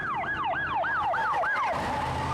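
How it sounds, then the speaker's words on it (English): A loud wailing siren sweeps rapidly up and down in repeated cycles, close by, over a rumble of traffic. "I hear sirens."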